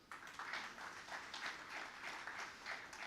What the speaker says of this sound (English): A big round applause to all the participants.